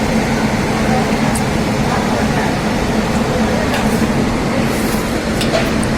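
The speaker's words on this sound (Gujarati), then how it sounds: "અત્યારે જુનાગઢ જંકશન ઉભા છે" A broad, steady hum of station ambience on a platform at Junagadh Junction railway station, with distant rumbling and faint scattered clatter, no clear voices standing out.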